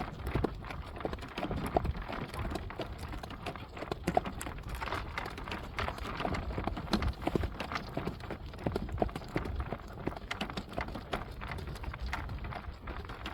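Rhythmic clip-clop of horse hooves trotting on the ground, steady and fairly close, with soft background noise.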